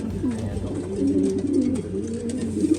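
Racing pigeons kept on the widowhood system coo in a loft, a close, low, repeated throaty cooing that carries on through the clip, with no talking.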